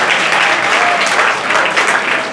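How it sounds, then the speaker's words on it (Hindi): Loud, steady clapping from a seated class audience in Delhi, a thick continuous patter of many hands at close range with no voices over it. "आप लोग तालियां बजा सकते हैं।"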